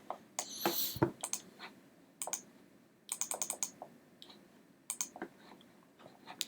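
Bursts of quick keystrokes on a computer keyboard come in short clustered runs separated by pauses, close and fairly quiet in an otherwise still room.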